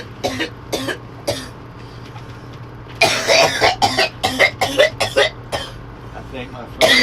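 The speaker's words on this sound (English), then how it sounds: "I think my friend has just coughed up what lung he had left" A person lets out a string of harsh, close coughs in two clusters, the second longer and more violent, with a steady background hum underneath.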